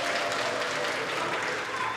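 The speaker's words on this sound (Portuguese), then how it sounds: "Um grande aplauso." Applause from an audience at a family game show, a steady, even wash of clapping held at moderate level with no break, fairly close and without talk.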